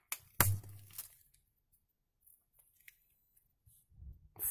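A tool cuts into the hard plastic housing of a Barrier Standard 204 water filter with one sharp, loud crack, followed by near silence, faint scrapes and a small clatter at the end.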